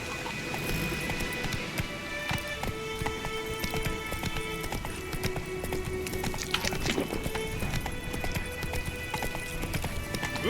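Roach the horse in The Witcher 3 trotting along, hooves clip-clopping in a steady quick rhythm close by, with tack jingling, ambient tones and faint background voices.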